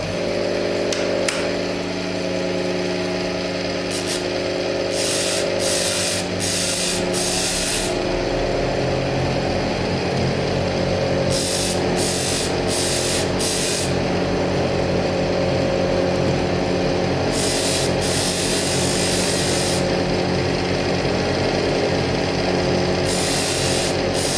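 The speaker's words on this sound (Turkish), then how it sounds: "150'lik zımpara ile başlıyoruz inşallah." Steady abrasive rubbing of 150-grit sandpaper on a prayer bead, continuous and close, with a faint mechanical hum running underneath throughout.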